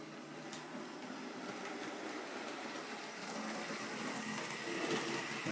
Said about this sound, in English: I actually just put it up as a pannier tank train, and it now just goes away and it accelerates